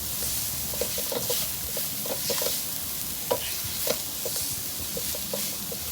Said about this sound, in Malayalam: ഇതിൽ അണ്ടിപ്പരിപ്പും മുന്തിരിയും നെയ്യും മറ്റേ ഏലക്കപ്പൊടി ഇട്ടിട്ട് തേങ്ങ വഴറ്റിയെടുത്തിട്ടുള്ളതാണ്